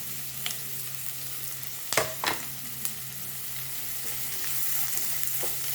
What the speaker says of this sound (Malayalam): നല്ലൊന്ന് മൂക്കുന്നവരെ നമുക്ക് വഴറ്റി കൊടുക്കാം